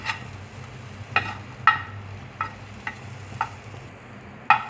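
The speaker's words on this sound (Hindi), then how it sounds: "बस इसको हमने हल्का से इसको फ्राई करना है" Chicken fries lightly in a pan under a soft, steady sizzle, while a utensil stirs it with occasional scraping clinks against the pan.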